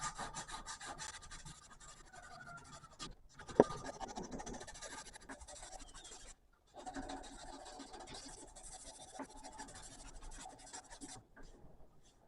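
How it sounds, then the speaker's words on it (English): Knife handle scales for a custom harpoon clip point knife are hand sanded with coarse 80-grit sandpaper, giving steady close scratching strokes that break off in two short pauses and include one sharp knock. "This process takes quite a bit of sandpaper."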